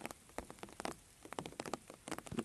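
Scattered light patters of fine raindrops tapping a nearby surface on a rural smallholding in late afternoon, irregular and soft, with no voices.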